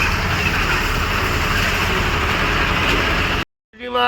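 Trucks drive toward a river to load sand, making a steady, loud engine drone with road rumble recorded from inside the cab, then cutting off abruptly near the end.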